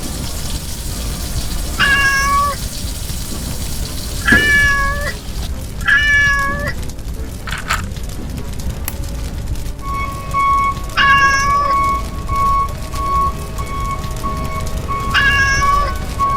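A kitten in a toy fire rescue scene meows repeatedly, several clear, loud, close cries spaced a couple of seconds apart, followed by one long drawn-out meow, with no talking.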